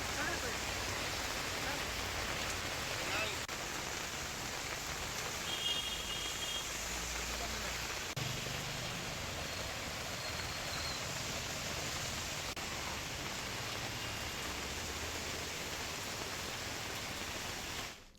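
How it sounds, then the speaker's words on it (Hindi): Steady rain falling in Bilaspur during several days of on-and-off monsoon downpours, a continuous dense hiss that holds at an even level throughout with no other distinct sounds. "इधर बिलासपुर में बारिश का दौर फिर शुरू हो गया।"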